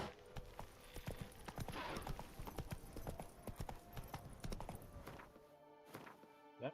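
Horse hooves clip-clop steadily in The Witcher 3 video game, a continuous run of close, crisp hoof strikes with a soft whinny-like tone near the end and no talking.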